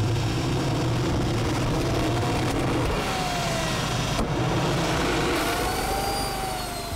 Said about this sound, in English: Now that is sounding more like a jet engine.